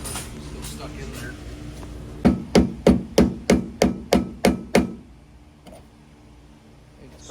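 About nine evenly spaced metallic hammer blows ring out close by, driving worn, stuck bushings out of a part, followed by quiet.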